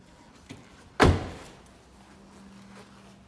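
A 2006 Nissan Tiida Axis Autech Edition door lock clicks once softly, then a single sharp clunk of the locking mechanism rings close by and fades, with quiet surroundings.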